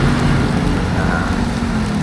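Rain during a motorcycle ride on the way to Hambalang, a loud, dense, steady hiss of falling rain mixed with rumbling noise that continues without a break.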